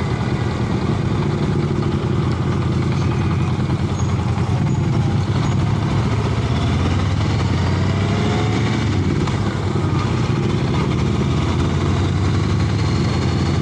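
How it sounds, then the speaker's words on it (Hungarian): A motorcycle engine idles steadily before a ride, a constant low rumbling drone close by with faint background noise and no talking. "Úgyhogy most ezzel fogunk motorozni"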